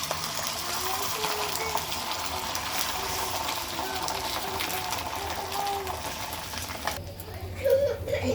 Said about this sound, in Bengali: আর একটু তেল দিয়ে দিয়েছি চাটুতে, ওই ডিমটাকে ঢেলে দেবো।